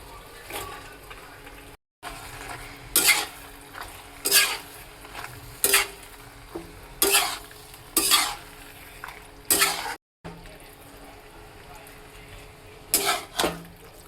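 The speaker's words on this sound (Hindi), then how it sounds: "एबे एथिरे पास्ता ऐड कर दवा।" Pasta is stirred into a thick gravy in a pan, with regular scraping strokes of a spoon against metal about once a second over a low, steady sizzle. Each stroke is close and fairly loud, with brief pauses between them.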